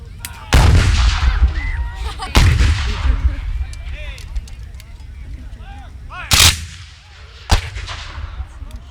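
Cannon and rifle fire at a Civil War reenactment: several loud, booming blasts spaced a second or more apart, each echoing away, with voices and crowd sounds in between.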